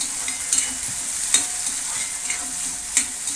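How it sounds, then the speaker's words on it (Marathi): Tomato being sautéed with browned onion in a pan, a continuous close sizzle with a few sharp spatula scrapes and taps against the pan. "कांदा लाल परतून झाला आहे त्याच्यात टाकूया टमॅटो तोही परतून घेऊया छान"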